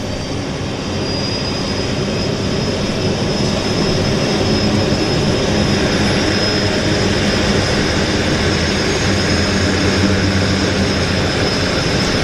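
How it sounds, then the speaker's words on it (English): A loud, steady engine roar fills everything, a constant droning whine of turboprop floatplane engines starting nearby at a float base, without pause. "we've got another aircraft, another turbo starting engines right here beside us."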